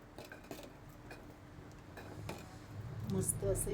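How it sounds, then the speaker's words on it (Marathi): A spoon scrapes and clinks against a pot while kulith madgam, a horse gram dish seasoned with salt, is stirred and mixed, making light irregular taps and scrapes under someone speaking. "सगळं मिक्स करून घेऊ."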